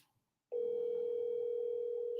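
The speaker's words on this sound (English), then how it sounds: "give me a thumbs up in the chat if you can hear Caroline's phone right now." Telephone dialing tone on a phone call, a steady single-pitch electronic hum starting abruptly after a brief silence and holding constant to the end.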